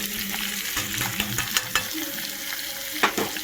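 A spice paste of green chilli, ginger, cumin, Kashmiri chilli, turmeric and salt sizzles in a pan, a close steady frying hiss punctuated by sharp spatula scrapes and taps at irregular intervals.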